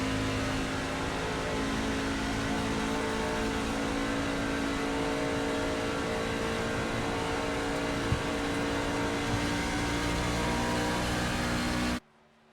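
Racing vans on a qualifying lap at Daytona hold a loud, steady engine drone under full throttle for about twelve seconds, then cut off abruptly at the end.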